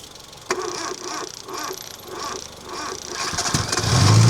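A car engine fuelled with cooking oil is cranked, with a sharp click followed by repeated rhythmic starter turns that build into a louder catch as it tries to fire.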